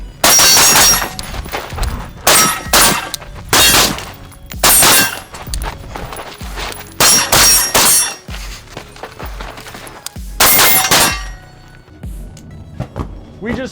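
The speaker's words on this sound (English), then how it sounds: "We just finished up 2 days of shooting the Surefire Rc3." Gunfire through a SureFire RC3 suppressor at a shooting range, several loud muffled shots spaced by short pauses, some in quick pairs, close by with no talking.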